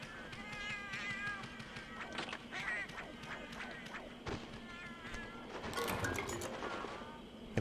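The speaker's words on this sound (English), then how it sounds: "you would think that having 3 cats is noisy in this game" Three cat companions meowing in the video game Monster Hunter Generations Ultimate, several high, repeated mews that overlap one another over a busy game background, with a brief voice heard in between.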